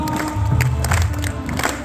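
A crowd at a devotional singing event clapping and cheering, loud and close, a brief burst of mixed claps and voices with a low hum underneath.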